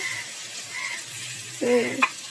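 Khichuri is stirred in a pan in a mini kitchen, with soft scraping and light sizzling, then a brief, louder, warbling vocal-like cry near the end.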